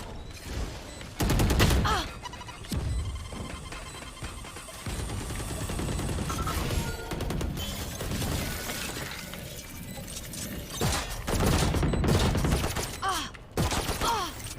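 Turret gunfire in a video game, heard as loud bursts of rapid shots with crashing, shattering impacts that repeat through the stretch, mixed with game noise and a voice underneath.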